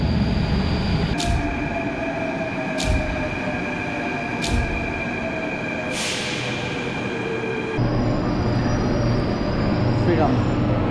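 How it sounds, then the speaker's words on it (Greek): An Athens metro train pulls into a station, its steady rumbling roar and drawn-out rising wheel whine filling the platform, with several sharp clunks along the way. A faint voice is heard under the noise. "Έρχεται το μετρό μας."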